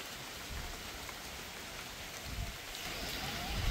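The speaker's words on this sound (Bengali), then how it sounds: "টিপ টিপ করে ছোট ছোট বৃষ্টির ফোঁটা পড়ছে।" Light rain falling outdoors in a rural Bangladesh setting, with small drops pattering steadily in a soft, even hiss that grows slightly louder toward the end.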